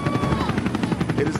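U.S. Marines helicopters overhead, a loud pulsing rotor chop with a rhythmic beat and engine whine, close and dominant throughout.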